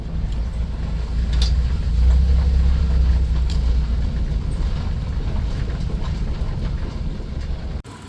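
A steady, low engine rumble from a 1991 Dodge Grand Caravan idles continuously at close range, with a few faint clicks and no talking.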